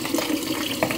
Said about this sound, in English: So I'm trying to wash it so I can get it together.